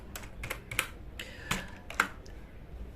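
Code being typed on a computer keyboard: a short, uneven run of crisp key clicks, a few louder strokes standing out, heard close with no talking.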